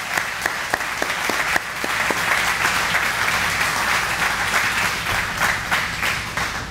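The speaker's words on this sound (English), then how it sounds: "So please join me in giving them a warm round of applause" A room full of people applauds warmly at the grand opening of a college's automotive technology building, a loud, dense wash of clapping with a few sharp individual claps standing out early on, sustained steadily throughout.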